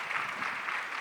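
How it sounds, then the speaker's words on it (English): Audience applause welcoming a speaker onto the stage at a life-science fireside chat, a short, steady wash of many hands clapping at once, even in level and moderately loud. "please welcome me with the applause"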